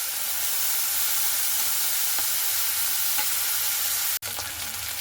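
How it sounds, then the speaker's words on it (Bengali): Small fish frying in hot oil, a loud, steady, close sizzle that holds throughout, broken once by a sharp click near the end, with no talk. "তো ছোট মাছ কিন্তু ভাজার জন্য তেল অবশ্যই গরম করতে হবে। এরপরে আমি মাছগুলোকে দিয়ে দিচ্ছি।"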